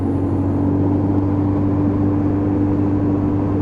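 Lexmoto Titan Euro 5 motorcycle cruising at 40 mph in traffic, a steady close engine drone with a constant low hum and wind-like noise, no talking.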